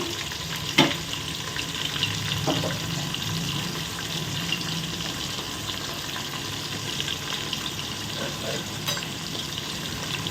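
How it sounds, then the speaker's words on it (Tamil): Onions sautéing in a pan for vegetable biryani while being stirred, a continuous close frying hiss with occasional scrape and clink from the spoon, plus a brief water-like splash near the start. "அதுக்கு வெங்காயம் போட்டு கிளறி விடுவோம் வெங்காயம் வந்து நல்லா வதங்கட்டும்"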